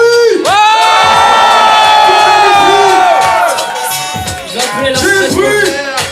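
A crowd at a Paris graffiti showcase at La Place cheers and shouts in a long, loud sustained roar, then breaks into rhythmic chanting bursts near the listener.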